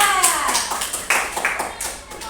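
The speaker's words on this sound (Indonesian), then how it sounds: "tepuk tangan buat Dinda." A group of primary school children in a classroom claps in quick, uneven bursts, a short round of applause that fades within a couple of seconds.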